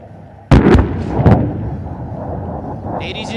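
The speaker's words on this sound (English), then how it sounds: "Flares dispensed. Rockets away!" Rockets fired by Indian Air Force aircraft and their explosions on the Pokhran range: a sudden loud blast followed by a second boom and a long rumbling roll that lingers, heard from a distance.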